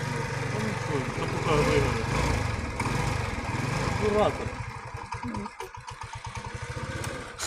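A small engine with carburetor trouble and black smoke runs steadily under voices, then settles into a rhythmic, chugging idle with uneven pulses toward the end.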